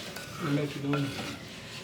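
Curd being stirred into paneer masala gravy in a pan, a brief soft scraping and swishing of a spoon through thick sauce with faint clinks and low sizzle, quiet and close.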